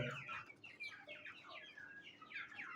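Desi chickens cluck softly while sitting in the winter sun, a faint run of quick, chattering calls close by with no talk.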